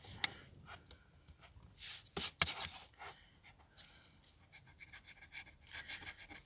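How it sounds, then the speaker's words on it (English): An eraser rubbing pencil marks off paper while making small gift boxes, giving quiet scratchy strokes in uneven bursts with a few louder scrubs, close to the microphone and without speech. "I have to rub these pencil marks off now."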